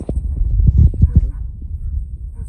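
A dog gives a quick series of short barks and yips near the listener, clustered in the first half-second to second, over a low rumbling background during a night of firecrackers.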